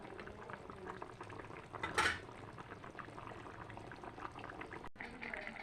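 A fish curry with fenugreek and taro stolons bubbles softly in a pot, a faint steady simmer with a brief clink of a utensil partway through.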